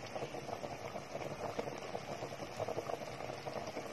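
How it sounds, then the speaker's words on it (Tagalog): Soup broth boils steadily in a pot, a continuous bubbling and burbling simmer heard close up at a low, even level throughout. "Konting kulo na lang po yan"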